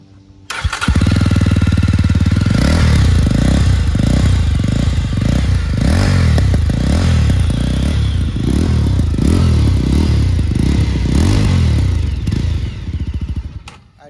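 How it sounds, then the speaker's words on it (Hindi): A Yezdi Roadster motorcycle fitted with a dB killer starts up and runs close by, loud and throaty, with a pulsing, revving rumble that holds steady for over ten seconds before cutting off. "बाइक का साउंड सुन लो। भाई स्टार्ट करो"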